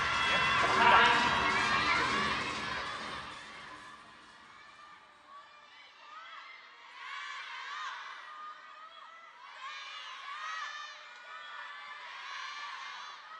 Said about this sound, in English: it's tough to hear in here with all the noise from the crowd